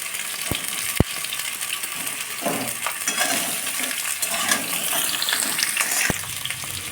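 Chunks of pumpkin, ridge gourd and raw banana drop into hot oil with cumin seasoning for a mixed vegetable dish, setting off a steady loud sizzle with a few sharp clunks as pieces land.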